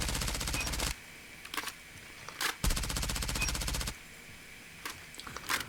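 Automatic gunfire in the CBR4 shooting video game, two long dense bursts of rapid shots with short pauses between them, plus scattered single shots and game effects in the gaps, loud and continuous.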